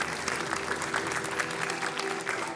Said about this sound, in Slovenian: Kdaj ima en aplavz za Božička?